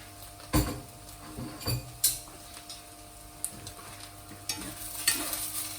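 Eggs and flat kway teow rice noodles stirred in a hot pan, with scattered scraping and clinking strokes of a utensil over a faint sizzle, close up.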